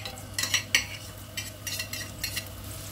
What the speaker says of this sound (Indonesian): taruh minyak secukupnya, tumis dulu ini bawang merah dan bawang putihnya.